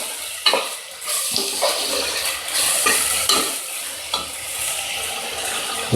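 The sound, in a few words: curry leaves and coriander stirred into frying gravy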